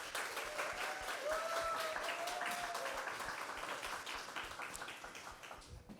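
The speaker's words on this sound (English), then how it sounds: "so please give a big round of applause for Kaliko." Audience applause at a live comedy panel event, a steady wash of clapping from a large crowd that sustains for about six seconds, with a faint voice or whistle briefly audible above it before it begins to taper off.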